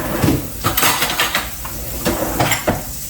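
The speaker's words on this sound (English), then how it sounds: "Let me get a fork." A fork pulled from a kitchen cutlery drawer while making a breakfast burrito, with several close metallic clinks and rattles of silverware, a few sharper clacks spaced over a few seconds, near and fairly loud with no talk.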